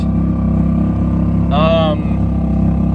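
A sailboat motoring under engine power gives a steady, continuous low engine drone throughout, with a brief higher whistling tone rising over it midway and no talking.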